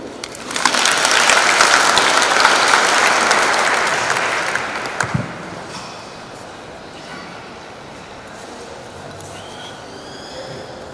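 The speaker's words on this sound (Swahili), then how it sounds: "Tumpigie tena makofi mtendaji mkuu wa TARURA" An audience at a government meeting on road network strategy breaks into loud, dense clapping for several seconds, then it fades into quiet room noise.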